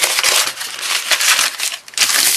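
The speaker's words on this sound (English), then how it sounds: "Flatten that back out again." Crumpled brown packing paper being flattened out by hand, a loud, close crackling and rustling that runs in dense bursts with a brief lull near the end.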